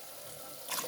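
About two glasses of water being poured into a pot for rice, a steady splashing pour at close range that swells louder near the end.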